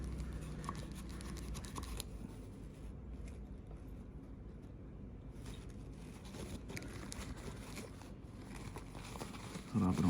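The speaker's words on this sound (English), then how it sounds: "and slowly clean all the grooves." Cloth wrapped over a screwdriver scrubs the grooves of a fishing reel, giving a close, steady brushing rasp with brief pauses.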